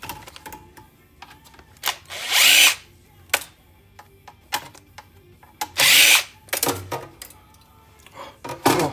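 A power drill whirs in two loud bursts while backing screws out of a desktop PC being scrapped for precious metals, with small clicks and metallic rattles of handling between them and no talk.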